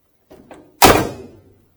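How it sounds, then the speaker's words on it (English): A 1965 Chevrolet Impala convertible door snaps shut with one solid, loud thunk that follows a couple of faint preliminary clicks and then rings out briefly. "You'll notice the doors just snap shut very nice."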